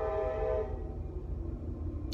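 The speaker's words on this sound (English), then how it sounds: "Sorry if you still hear the train, but it takes a while for it to pass" A passing train sounds its horn in a loud, sustained blast at the start, then fades into the low rumble of rail cars rolling by. A brief higher-pitched sound comes near the end.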